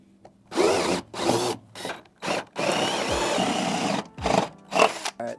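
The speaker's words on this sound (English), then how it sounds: "we did just drill through the steel frame" A power drill bores through the steel floor frame of a Sprinter van in a series of loud, close bursts, with stop-start whirring, one sustained grinding run and short pauses between.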